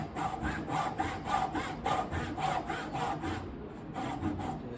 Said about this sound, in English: So the saw's up to the line there